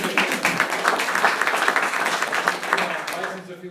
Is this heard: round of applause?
yes